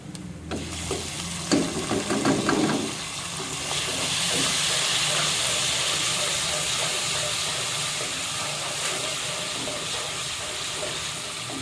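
Steady sizzling hiss of cumin, ginger and garlic frying in a hot pan, continuous and fairly loud after a few brief clatters at the start.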